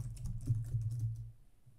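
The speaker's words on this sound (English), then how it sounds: "If I hit enter, then quickly type my password." A password typed quickly on a computer keyboard: a rapid, close burst of light keystrokes lasting about a second before falling silent.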